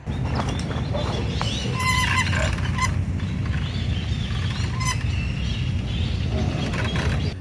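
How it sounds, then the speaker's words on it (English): Several birds call outdoors over steady low rumbling background noise, with short honking and chirping calls scattered throughout. "we are now going to move on and hopefully catch some birds, because I'm hearing birds right now"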